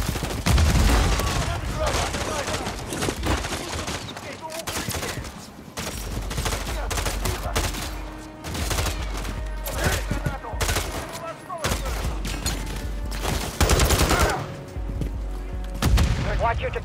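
Call of Duty Modern Warfare 3 campaign combat: repeated bursts of automatic gunfire and sharp single shots crackle throughout, with booming impacts and brief voices mixed into the dense, loud battle noise.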